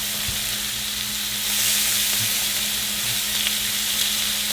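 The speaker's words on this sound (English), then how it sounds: "it doesn't take long for shrimp to cook" Shrimp cook in a hot pan with a loud, continuous sizzle that swells slightly midway and holds steady, with a few faint stirring bumps underneath.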